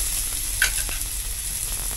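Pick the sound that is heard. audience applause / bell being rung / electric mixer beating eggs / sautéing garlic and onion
sautéing garlic and onion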